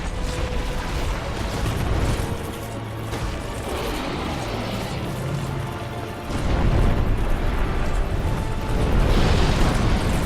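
Boss fireballs explode in Dark Souls 2 with dense, loud, crackling blasts in repeated bursts, the strongest surge coming near the end, with no talk over them.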